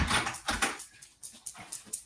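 A dog whimpering in short, repeated whiny bursts on a cold day, fairly close and moderately loud, with broadband breathy noise between the cries and no speech.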